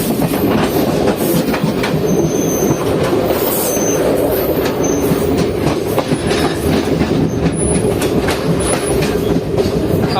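A Jaynagar–Samastipur passenger train switches tracks at a junction, wheels rumbling loudly and steadily with rhythmic clickety-clack over the rails and occasional thin, high wheel squeals, heard from on board with no talking.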